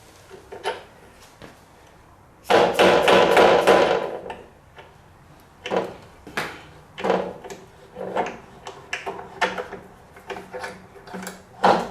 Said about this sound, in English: I'm going to take a little punch, stick it through there